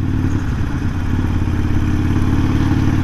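Harley-Davidson Sportster motorcycle ridden along a rough, bumpy road, its engine a steady loud low rumble with constant rattling and clatter throughout, no talk.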